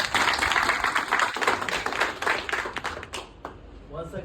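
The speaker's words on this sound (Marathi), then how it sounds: "परत एकदा जोरदार टाळ्या झाल्या पाहिजे" A hall full of people claps loudly at a gathering in Chilhali, Buldhana, the applause thinning and fading toward the end as a voice begins to speak.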